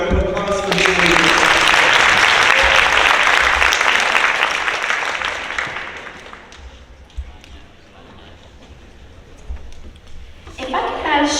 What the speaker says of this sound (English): Let's give them one more round of applause for being leaders.